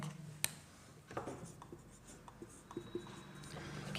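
Pen writing a math solution in a notebook, a close, quiet scratching with short strokes and small taps scattered irregularly across the few seconds.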